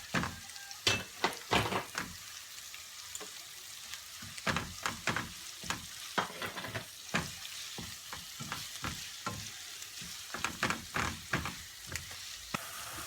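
Minced meat frying in a pan with onions, a continuous sizzle broken by frequent sharp scraping and tapping strokes of a utensil being stirred, close and irregular, with no speech.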